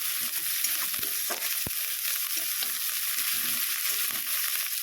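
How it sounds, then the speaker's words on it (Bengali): Garlic paste sizzles loudly as it is stirred into frying onions in a pan, a steady close crackle with occasional scrapes of the spoon. "এবার এর মধ্যে আমি বেটে রাখা রসুনটাকে দিয়ে দেবো। দিয়ে একটুখানি নেড়ে চেড়ে নিয়ে"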